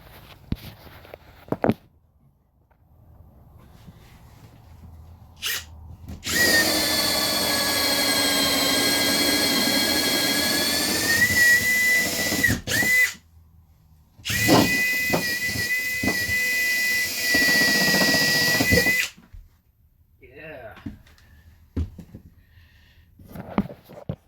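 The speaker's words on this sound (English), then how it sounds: "Now I'm gonna widen it out to the full size of this on the top side. And then go find a bigger hole saw." A power drill with a hole saw cuts through a camper floor, two sustained loud whining, grinding bursts separated by a short pause, with quiet knocks and handling noises before and after.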